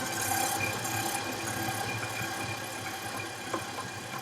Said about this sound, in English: And then turn the mixer on low again.